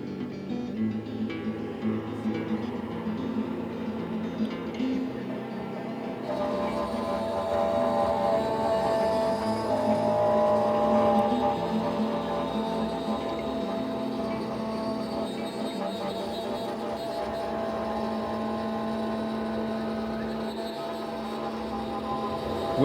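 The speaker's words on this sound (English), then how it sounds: "So our cutter is turning" A small CNC machine's spindle and cutter run in a steady, droning hum with tonal whine, rising slightly in intensity partway through as cutting begins, continuous and close with no talk.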